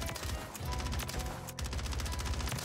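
A Grau-like assault rifle fires in Call of Duty, in rapid automatic bursts with a brief pause near the middle, crackling and dense, moderately loud with no talk.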